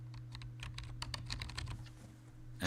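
Typing on a computer keyboard, a quick, uneven run of close key clicks over a low steady hum, slowing briefly before a final burst.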